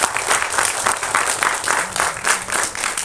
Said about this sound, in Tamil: தயாரிப்பாளர்கள் திருமதி பவுனம்மாள் பா இளஞ்செழியன் அவங்கள ஒரு தடவை பலமாக கைதட்டி பாராட்டுவார்கள்